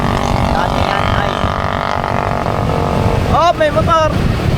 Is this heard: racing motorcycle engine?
yes